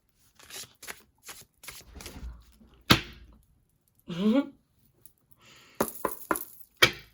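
Tarot cards being shuffled by hand give quick riffling flutters and soft slaps in short bursts, close and crisp, alternating with a person speaking.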